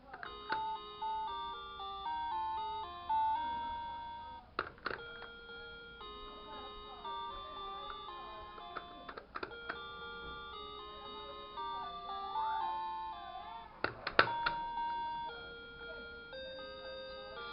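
A vintage Little Tikes musical light-up toy teapot plays Twinkle Twinkle Little Star as a thin, electronic melody of clear tones, broken by several sharp clicks and handling knocks.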